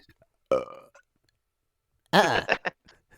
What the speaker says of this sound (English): sudden belch coming up